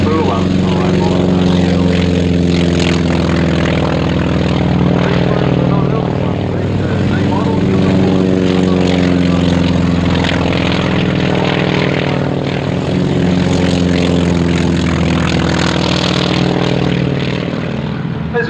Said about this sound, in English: We've got the SNJ and the Nanchang taken off together.